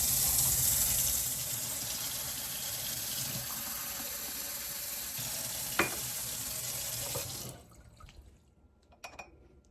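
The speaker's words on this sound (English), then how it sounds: "we are going to run our hot water and make sure we have the right temperature." Hot water gushes steadily from a tap into a sink for several seconds, loud and close, before being shut off, leaving a few faint drips and clinks.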